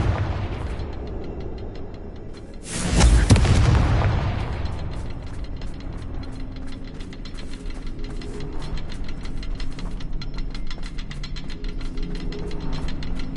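A Confringo blasting spell explodes in Hogwarts Legacy, a single loud booming blast with a rumbling tail, followed by steady game ambience and a crackling, ticking texture.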